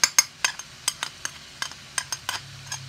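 A spoon stirs vegetables and chicken in a pan for an Asian-style noodle dish with shrimp, giving a dozen or so sharp, irregular scrapes and clinks close up over a faint background.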